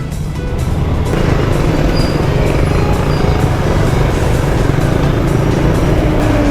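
Cars and other road vehicles crowd an elliptical road, giving a loud, steady engine rumble and rushing road roar close by that runs without a break and has no talk over it.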